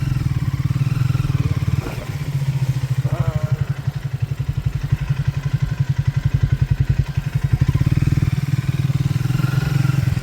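A motorcycle climbing an off-road monsoon trail at Devaramane view point, Chikkamagaluru, its engine chugging close and loud in a steady thumping pulse with a brief dip and clatter midway.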